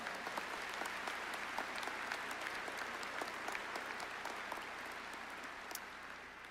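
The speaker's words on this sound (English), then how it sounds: "Please give these awesome individuals a round of applause." Sustained applause from a large audience at a College of Education and Health Professions commencement ceremony, a dense, even roar of clapping lasting throughout, with no one speaking over it.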